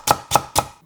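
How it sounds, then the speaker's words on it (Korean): Three quick, evenly spaced knife chops through leftover pumpkin scraps on a cutting board, crisp and close. "남은 짜투리는 칼로 썰어주세요"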